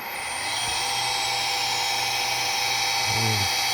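An Omron inverter-driven motor at full speed, 60 Hz, gives a steady high-pitched whine at constant speed, droning continuously with a faint low hum underneath.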